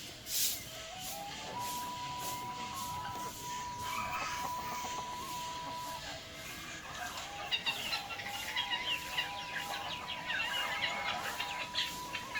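Free-range village chickens cluck and call repeatedly at moderate distance, with a rooster-like tone rising now and then over a busy outdoor background.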